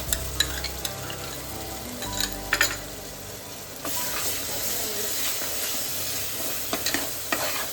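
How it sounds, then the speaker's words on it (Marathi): Onion and coconut masala paste roasts in a pan for a spicy chicken curry, a steady sizzle and hiss broken by scraping stirs and a few clattering knocks of a spoon against the pan, close by. "मस्त आपण आता भाजून घेऊया मसाला"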